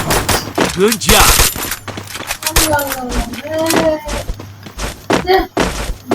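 Gunfire rattles in a video game, quick bursts of shots and thuds mixed with other game effects and a voice, loud and close, jumping between dense volleys and brief lulls.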